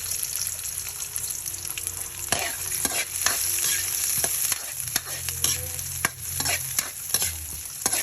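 Chopped onions frying in a pan for chicken batchoy, stirred with steady scraping strokes over a constant soft sizzle, close and alone with no talking.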